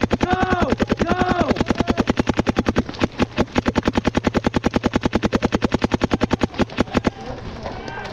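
Paintball markers fire rapid, continuous covering fire, a dense, evenly spaced stream of loud pops for several seconds. Shouting voices break in at the start.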